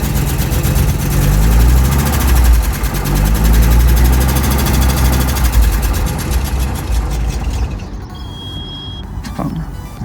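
An Audi Coupe that has just been started after its fuel filter was replaced idles with a deep, steady rumble and a slightly uneven knocking pulse. A person talks nearby, and the engine fades somewhat toward the end.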